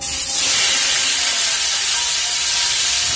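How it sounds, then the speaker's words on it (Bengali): Chopped tomatoes hit hot oil tempered with bay leaves, whole garam masala, cumin and dried chili, giving a loud, steady, close sizzle with bright hiss throughout. "এর মধ্যে দিয়ে দেবো কেটে রাখা টমেটো"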